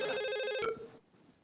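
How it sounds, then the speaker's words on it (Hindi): A telephone rings with an electronic ringtone, a bright rapid warbling tone repeating for about half a second and then abruptly stopping, leaving faint room noise behind. "मैडम आपका फोन है।"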